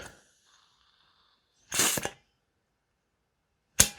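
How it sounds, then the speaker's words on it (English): A VFC M4 GBBR airsoft magazine for a V3 URGI 10.3-inch rifle is charged with gas in two short, loud hissing bursts separated by silence. "I'm just going to gas the mag up"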